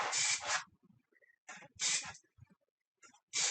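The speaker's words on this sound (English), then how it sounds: "I'm just going to add some spray paint designs." Several short hissing bursts of spray from an aerosol can, separated by brief pauses, close and loud.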